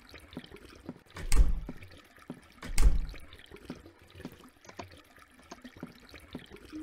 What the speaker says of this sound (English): No, I don't want to check out the bubbling noise.